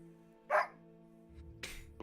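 A person imitates a dog barking in a short, loud yelp, then a second bark-like burst after a pause, over a low background hum.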